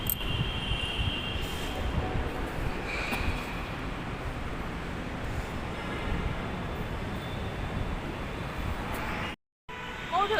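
Metro train pulling into an underground station, a steady loud rumble of wheels and carriage noise filling the whole stretch, with a brief dropout near the end.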